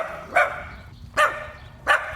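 A puppy gives three short, sharp barks, evenly spaced about three-quarters of a second apart, close and fairly loud with quiet gaps between them.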